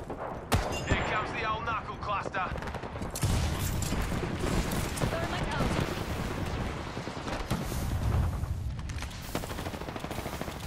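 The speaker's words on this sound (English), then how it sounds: "Stand back. Knuckle cluster's firing." Fuse's knuckle cluster in Apex Legends firing a barrage of small explosive bursts, heard as a dense, crackling run of blasts and booms lasting several seconds, with some voices mixed in.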